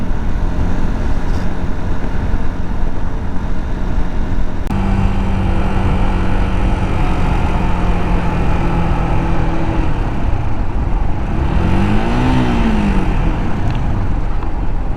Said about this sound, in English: rear engine air cooled vehicles, no thanks. They sound like a headache.